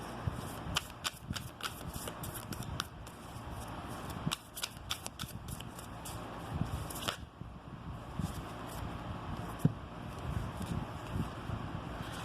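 Tarot cards being shuffled by hand, with soft papery riffles and slaps repeating in bursts over a low room hiss, close and moderately quiet.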